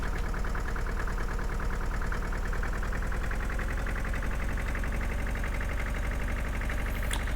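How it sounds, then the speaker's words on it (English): A tractor engine in Farming Simulator 2013 drones steadily at a low, even pitch while pulling a heavy load at about 4 miles an hour, continuous and fairly close with no voices. "I was surprised that this tractor actually would pull this"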